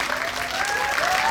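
An audience at a Hedwig film screening and talk at COEX Megabox breaks into loud, dense applause as guests enter, a continuous wash of clapping from a large crowd.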